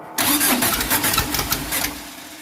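A 2332cc engine, just after carburetor cleaning, cranks and catches on a cold start, sputtering unevenly at first before settling toward a rough idle, loud and close.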